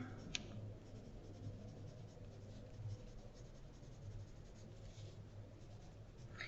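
Pencil writing a name and class period on a drawing: faint, close scratchy strokes come in short bursts, quiet and with no talking.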